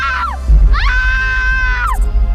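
Several shrill screams in a horror audio story about a ghost: a short rising-then-falling shriek, then a longer sustained high scream that slides down at the end, over low rumbling thuds, loud and close.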